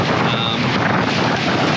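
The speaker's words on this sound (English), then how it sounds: "It's actually pretty windy out here." Strong, steady wind of about 20 knots roars across the microphone aboard a sailing boat, a loud continuous rushing buffet with no other sounds standing out.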